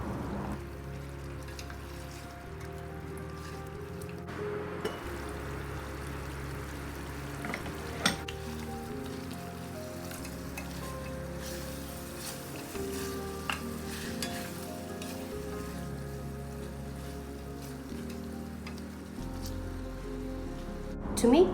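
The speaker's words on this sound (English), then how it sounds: "On regular basis, keep stirring the gravy" Mutton gravy cooks in a pan, giving a steady bubbling sizzle with occasional faint stirring knocks, a low hum underneath and a slightly louder clatter at the end.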